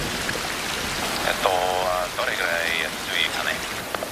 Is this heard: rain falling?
yes